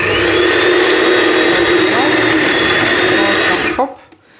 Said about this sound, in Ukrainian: Пробуємо огірочок терти. Так, включаємо.